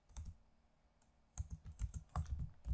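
Quick typing on a computer keyboard while entering a Power Query formula in Excel, a few soft taps early on and then a dense, irregular run of close clicks and keystrokes.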